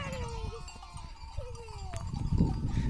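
Lambs bleating on a farm among the flock, with wavering calls rising and falling over a busy low rumble of outdoor noise and shuffling, fairly close throughout.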